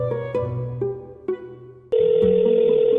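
A telephone gives a few short synthetic tones followed by a steady ringback tone as a call is placed, clear and close with no voices.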